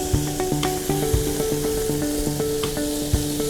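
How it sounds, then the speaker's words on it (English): Paneer frying in a little oil makes a close, steady sizzle with faint stirring, while background music plays along with it. "Again we'll add little oil, Okay. only little bit. And this is for This is for the paneer. okay. So we do need to fry this a little."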